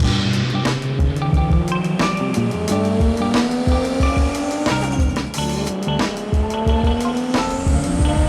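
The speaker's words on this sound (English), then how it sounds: "Fastest car here, all-wheel drive, baby." An all-wheel-drive MK5 Supra accelerates hard and loud, its engine note climbing through rising gear sweeps with sharp shift cuts, tire squeal and gritty rattles up close.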